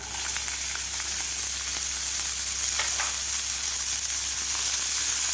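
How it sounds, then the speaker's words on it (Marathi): Green chili, garlic and peas fry in hot oil with a loud, continuous crackling sizzle, close up and steady throughout, with a few light stirring scrapes and no talking. "हिरवी मिरची, लसूण आणि मटार घालायचे आहेत आपल्याला."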